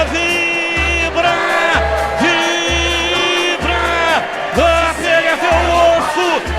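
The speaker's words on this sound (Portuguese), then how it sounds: "a torcida vibra" A stadium crowd at a Guarani versus Tombense Série B football match chants in a loud, rhythmic, sung pattern over steady low drum thumps that repeat about once per second.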